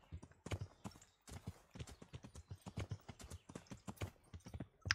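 Rhythmic clip-clop of horse hooves in the video game Kingdom Come: Deliverance, steady and fairly crisp, with a game-like clean quality and no other sounds.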